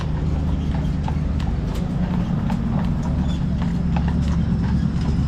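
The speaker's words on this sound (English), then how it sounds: "the aluminum trolley we have today with our two strong draft horses" Two draft horses pull an aluminum trolley on a carriage tour through Old Town Wilmington, North Carolina. Their hooves clip-clop steadily and close over a constant loud rumble of rolling wheels.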